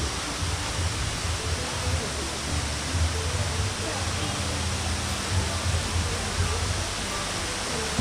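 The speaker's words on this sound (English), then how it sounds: "I like to call this waterfall on our right Inspiration Falls." A roaring waterfall passed by canoe at the Polynesian Cultural Center on Oahu, Hawaii, sounds as a constant broadband rush of falling water with some low rumble and a faint voice underneath.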